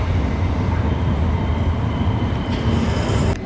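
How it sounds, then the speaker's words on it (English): A Glasgow underground train pulls into a platform with a loud, continuous rumble and roar that holds steady before easing off near the end. "The train arriving at platform 1 is the 11:39 service to Dalmarnock."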